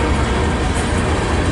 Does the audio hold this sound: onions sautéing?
no